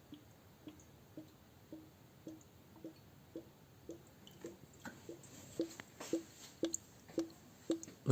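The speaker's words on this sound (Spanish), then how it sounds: "Ahí se escucha cómo sale el aire, también se ve." Air escapes from the coolant system of a Seat Leon being bled. Soft regular gurgling pops and drips repeat about twice a second and grow a little louder toward the end.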